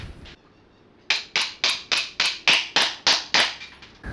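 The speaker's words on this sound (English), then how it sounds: "we'll just try and whack this a bit through." A hammer strikes a bolt to drive it out of a Yamaha YZ250F dirt bike engine in a garage. After two faint early taps come about ten sharp, close metallic blows in a steady rhythm, with no talking.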